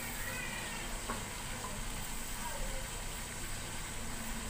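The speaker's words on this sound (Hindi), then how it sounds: "एक चूल्हे पे हमने फिश चढ़ा दी है फ्राई करने के लिए" Fish frying in a pan on a stove, a steady broadband sizzle running throughout at moderate level with no pauses, no talk over it.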